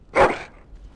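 A dog in the video game Dragon Age: Origins lets out one short, sharp bark up close, which fades quickly into quiet.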